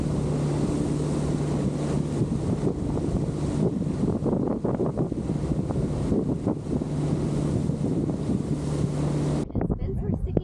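Boat pounding through rough seas in strong wind off the Bahamas, a loud, constant roar of wind buffeting the microphone over engine drone and crashing water, with no clear break until it drops out near the end.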